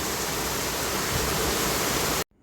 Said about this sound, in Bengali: প্রচুর বৃষ্টি হচ্ছে প্রচুর বৃষ্টি হচ্ছে